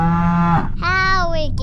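Cow mooing: one loud, close, drawn-out bovine call with a low start and a rising, harmonic-rich tail, heard alone.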